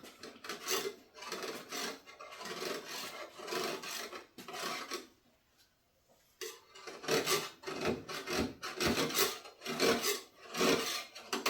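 Lemon rind rasped against a metal grater in quick rhythmic bursts of scraping strokes, close and crisp, with a short pause midway before the zesting resumes.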